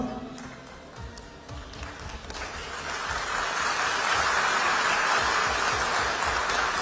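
Audience clapping at a talk in India begins sparse and scattered, then swells into steady, fuller applause that holds through the end, with a voice faintly present early on.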